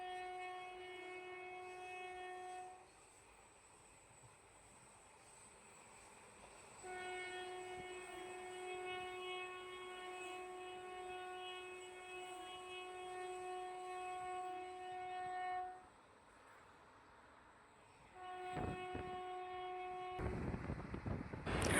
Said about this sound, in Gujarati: હવે ટ્રેનની ઝડપ પણ વધી ગઈ છે